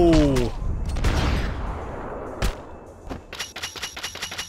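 Rapid bursts of gunfire from Max Payne 3 crack close and loud, with a few separate shots and then a quick stuttering string of rounds near the end.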